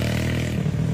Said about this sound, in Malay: Budak naik motor.